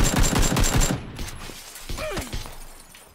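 Gunfire from PUBG Battlegrounds: a rapid, loud burst of shots for about a second, then a few sharper isolated cracks and mechanical clicks trailing off more faintly.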